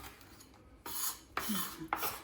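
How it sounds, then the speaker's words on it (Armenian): Knife slicing red pepper on a board while preparing festive baked kyufta with lavash, three crisp cutting strokes at a steady pace, close and moderately loud with no talking. "Հիմա կտրատում եմ կարմիրը"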